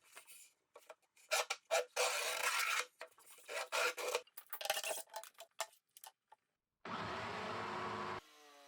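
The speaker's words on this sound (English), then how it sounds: "It'll leave a nice mark and I can follow that with a jigsaw." A jigsaw cuts plywood for a sculpture. Short rasping bursts come first, stopping and starting, then a steadier stretch of cutting runs before it ends. The sound is close and loud, with no talk.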